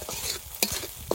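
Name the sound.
spices being sautéed on low flame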